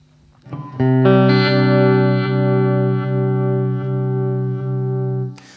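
Sustained electric guitar chord through a Chase Bliss Audio Wombtone MKII modulation pedal, the tone slowly ramping up and quickly dipping in a repeating uneven pulse, loud and close with no talking.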